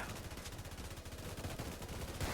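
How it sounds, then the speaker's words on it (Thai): A minigun tower in a Roblox tower defense game fires a steady, rapid stream of shots, a continuous buzzing rattle that holds at an even level throughout. "ยิงรัวยิงรัว เพิ่มมินิกันซะหน่อย"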